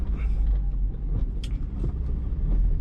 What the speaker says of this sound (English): the car is running on 2 Audi R8 ignition coils